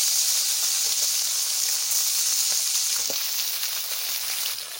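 Large khoiri fish sizzling loudly in hot oil in a pan, a close, continuous frying hiss with faint crackles and no talk, for a curry with kochur loti.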